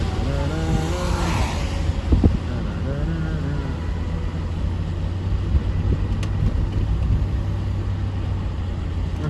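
A car driving through Cumming, Georgia, heard from inside as a steady low road and engine rumble with a passing engine whine early on, a few faint knocks, and no talking.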